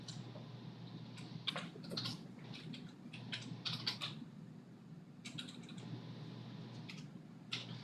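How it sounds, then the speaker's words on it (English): Fingers tap on a computer keyboard in quick, irregular clusters of soft clicks over a low steady room hum, faint and close. "I'm gonna start typing."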